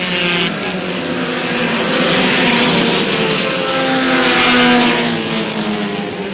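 Race cars roar around a racetrack in a continuous loud engine drone, several cars running close together with the pitch swelling and fading as they pass, no talk over it.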